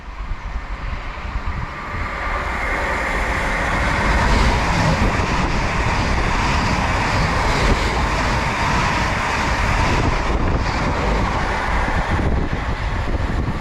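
A passenger train on the Stansted Airport to London Liverpool Street line rushes past close by on the route between Tottenham Hale and Bishops Stortford, a loud, sustained rumbling roar with rattling wheel noise lasting throughout.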